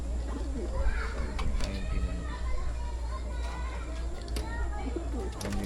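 Racing pigeons in a loft cooing repeatedly, soft throaty calls layered over a steady low hum, with people talking nearby and children's voices in the background.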